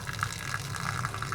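Water pours and splashes steadily off an RV slide-out topper during a slide motor repair, a continuous close gushing with small rhythmic surges and no voices.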